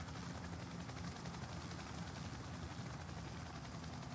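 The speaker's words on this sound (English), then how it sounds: "Helicopter." Helicopter rotor in the military shooter game Squad, a steady loud chopping thrum that holds unbroken throughout with no talk over it.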